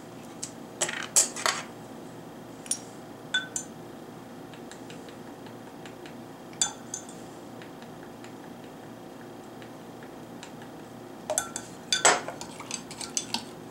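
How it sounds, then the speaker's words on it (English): Metal spoon clinking against a small bowl while stirring a pot sticker dipping sauce of sesame oil and hot oil, a few sharp taps near the start and a quicker cluster near the end, with quiet gaps between. "Give that a stir"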